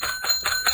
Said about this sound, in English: That is the world-famous comedy bell ringing to announce the arrival of a bouncing baby pun